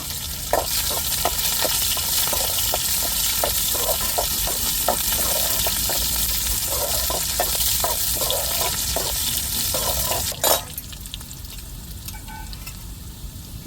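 Cut onions sizzle in hot oil with urad dal and curry leaves, for a brinjal kuzhambu. Steady frying hiss runs throughout, with repeated stirring scrapes. A sharp clatter comes near the end, and then the sizzle quiets slightly.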